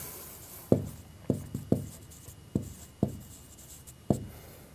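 Chalk or marker strokes on a classroom board during a lesson: about eight sharp taps and short scratches in an uneven rhythm, close and clear, with no talking.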